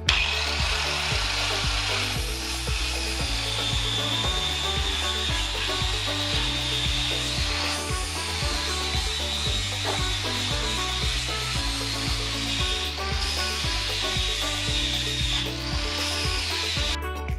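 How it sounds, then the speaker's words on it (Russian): A wooden block is cut into a shaped notch with a hand tool, producing a steady, close rasping and scraping that runs continuously with a regular back-and-forth rhythm and no voices. "Берем брусок, и нам нужно вырезать форму в этой части, чтобы она огибала конструкцию."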